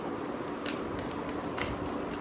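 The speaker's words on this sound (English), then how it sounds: "So let's begin shuffling." Tarot cards being shuffled close up, a dense papery riffling with a few sharper flicks, steady and fairly quiet with no voices.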